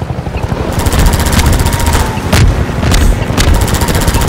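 Gunship firing in the video game Half-Life 2: Episode Two, a loud rapid stream of pulsing shots with a few heavier cracks over a rumbling low roar.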